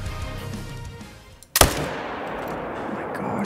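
A single loud .300 AR rifle shot cracks out in the hunting video game Call of the Wild, a sharp burst followed by a lingering rumbling echo, with quiet game ambience before it.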